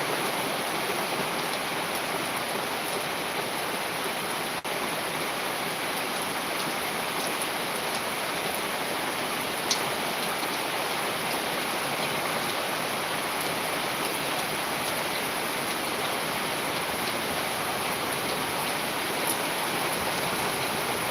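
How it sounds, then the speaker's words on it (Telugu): Steady, even hiss of rain falling, unchanging for the whole stretch with no voices. "వర్షం పడుతుంది"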